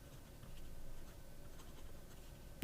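Sailor KOP Profit fountain pen with a medium nib writing on paper: a soft, steady scratch and glide that runs on without a break, close up and quiet.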